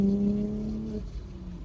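Supercharged Audi B8.5 S4 engine on a short pull, a steady loud harmonic drone with a slight pitch shift partway through, heard alone and close.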